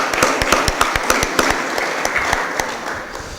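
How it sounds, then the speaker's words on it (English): Applause for a State Senator in the St. Louis Board of Aldermen chamber, a room of people clapping with sharp, distinct nearby claps over a dense patter that gradually eases off. "Let's give her a round of applause."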